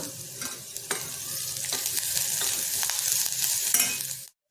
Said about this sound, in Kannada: ಇವಾಗ ಇದಕ್ಕೆ ಶುಂಠಿ ಬೆಳ್ಳುಳ್ಳಿ ಹೆಚ್ಕೊಂಡಿರೋದು ಅಥವಾ ನಿಮ್ಮ ಹತ್ರ ಪೇಸ್ಟ್ ಹಾಕ್ತೀವಿ